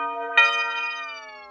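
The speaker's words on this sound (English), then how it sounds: "Then I did these heat bells right here." Bell tones closing a trap beat, a single bright struck chime that rings out with long sustained harmonics over a held tone, clean and alone.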